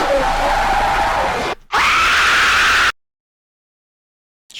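In the Five Nights at Freddy's horror video game, a character gives a loud, harsh, noisy scream that breaks off once and then continues, then cuts to silence and ends with a short, faint burst.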